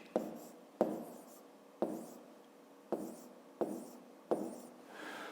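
Numbers being written by hand during a fifth-grade maths exercise: six distinct strokes of pen or chalk, each starting with a sharp onset and then a short scratching tail, spaced roughly a second apart and heard alone with no talking.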